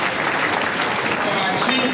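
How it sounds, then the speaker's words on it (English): Crowd applause at a national presidential ceremony in Sierra Leone, a dense, steady wash of clapping filling the full two seconds at constant loudness, with a faint voice or tone surfacing near the end. "Please give a round of applause"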